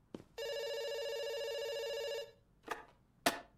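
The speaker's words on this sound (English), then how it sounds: "It's ringing." A telephone rings in the video game Dr. Langeskov, The Tiger, and The Terribly Cursed Emerald: one long, clear electronic ring of about two seconds, followed by a couple of sharp clicks in a quiet room.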